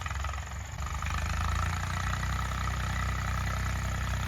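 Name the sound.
old Eicher tractor engine running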